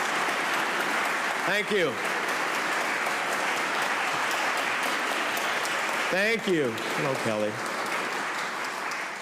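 A Senate briefing audience in support of the Iran revolution applauds a senator in a steady, even wash of clapping, while someone briefly speaks over it a few times.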